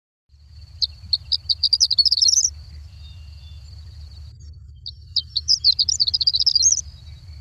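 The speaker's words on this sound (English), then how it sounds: "I do love to hear the horned lark singing in the morning" Horned lark song in open row-crop farmland: two bursts of quick, tinkling, rising twitters, each building to a jumbled high flourish, over a steady low rumble of wind or distant traffic.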